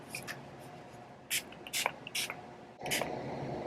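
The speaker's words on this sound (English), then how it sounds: "then I spray my setting spray" Several short hissing bursts of a Makeup Revolution setting spray bottle, a few quick spritzes in a row, close and fairly quiet with small handling noises between.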